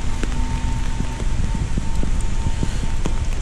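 Steady rain falls in the industrial city of Avilés, Asturias, a dense continuous hiss with scattered drops pattering on nearby surfaces and no voices.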